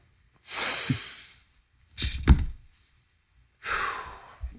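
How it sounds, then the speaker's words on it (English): Three deep breaths, each a long airy inhale or exhale with a soft sigh-like hiss, separated by short pauses, close to the microphone with no talking. "I'm going to take a breath into all that."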